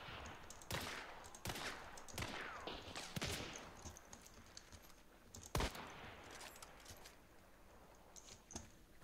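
Gunfire in the video game Hunt: Showdown: several sharp, separate shots and bursts ring out at moderate volume, with quieter clicks and rustles between them.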